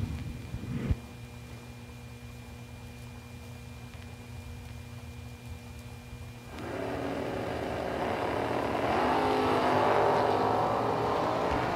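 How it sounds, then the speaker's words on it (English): A drag race launch between a 1966 Chevy II and a Cutlass: a steady distant rumble gives way at once to a loud, sustained engine roar that swells and holds for several seconds. "Nice little wheel stand launch for Creasy"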